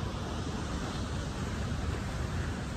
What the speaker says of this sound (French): On entend le bruit des vagues.